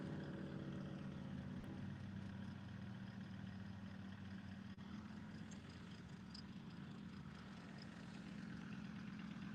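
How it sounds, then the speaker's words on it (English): Race cars idle at the start line of a 2022 motorsport event, a faint, steady low engine drone heard from a distance for the whole stretch, with no voices. "So the first car's off the line by the sounds of it."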